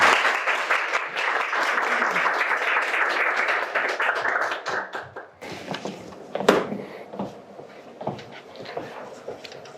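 Audience applause welcoming a former deputy director of the National Intelligence Service to a lecture on North Korea's power system, dense and loud at first, then thinning into scattered claps and a few taps.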